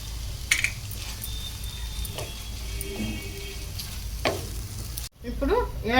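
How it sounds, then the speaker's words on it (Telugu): Cooked vermicelli being stirred in ghee in a pan for pumpkin semiya kesari, a steady soft sizzle with occasional spoon scrapes and clinks, then a short cut and a brief burst of faint sound at the end. "ఇప్పుడు మనం సేమియా వేసుకున్నాం కదా, ఒక స్పూన్ నెయ్యి కూడా వేసుకుని కలుపుకుందాం."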